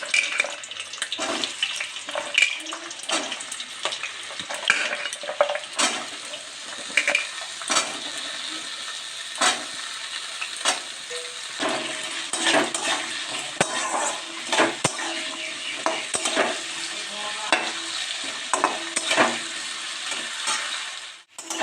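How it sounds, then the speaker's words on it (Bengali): Long strips of potato sizzle in hot oil in a pan, stirred now and then, producing a dense crackle with frequent sharp scraping clicks. The sound stays close and fairly loud, with no talking. "এবার আমি এর মধ্যে লম্বা লম্বা করে কুটে রাখা আলুগুলো দিয়ে দেব।"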